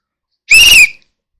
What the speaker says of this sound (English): And the whistle does work.